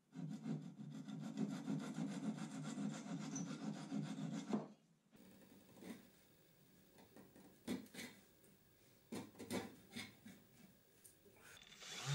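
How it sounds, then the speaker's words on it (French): Hand tools trim and sand a wooden end-grain cutting board. A steady rasping stroke of sawing or filing runs for a few seconds, then irregular scraping and sanding rubs follow, close and quiet. "je vais ensuite araser et poncer pour que ça soit parfaitement aligné avec les côtés de ma planche"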